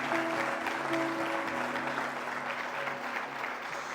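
A church congregation claps together in a steady, sustained round of applause, dense and continuous, with a held tone lingering faintly underneath.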